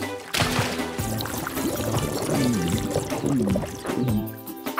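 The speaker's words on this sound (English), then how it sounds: "Morphle, suck up all the water from Vanderboos' yard." Cartoon sound effect of a magic pet sucking up all the water from a flooded yard, a loud continuous watery slurping and gurgling with wobbling, swooping tones, rising at the end and heard alone.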